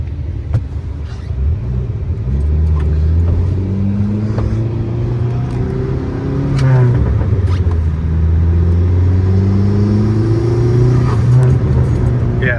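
A Dodge SRT-4 Neon's exhaust revs up and settles in a loud, close rumble, with rising and falling engine pitch sweeping through several throttle blips.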